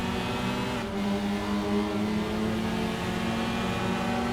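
A Honda touring car engine in a WTCR racing video game drones loud and steady at high revs, with a continuous harmonic whine and no talk.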